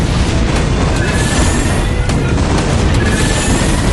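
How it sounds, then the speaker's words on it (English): Dropships destroyed by Goliath fire in a StarCraft match, a dense, continuous rumble of booms and explosions with scattered sharp bursts, loud and constant throughout. "And he has taken out one dropship. No, two dropships, actually."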